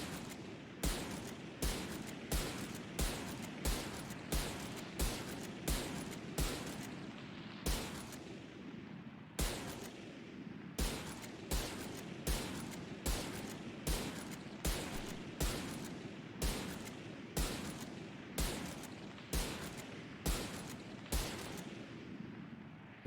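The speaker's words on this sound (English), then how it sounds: "The Marshall hip fire, if you're not moving." A Marshall gun fires from the hip in a shooter video game, heavy evenly spaced shots booming one after another in a long steady rhythm, each loud and punchy with a short tail.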